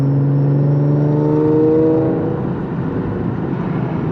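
Audi S4 engine revving under light throttle, a steady rising drone with strong harmonic tones that swell and then ease off, loud and close with no talking.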